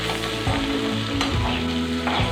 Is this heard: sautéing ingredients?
yes